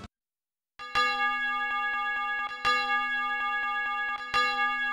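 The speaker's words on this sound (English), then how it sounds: "A bell." A bell rings in the video game Star Ocean: First Departure R, striking three times at an even, slow pace. Each strike is clear and resonant and decays into a long ringing tone after a short silence at the start.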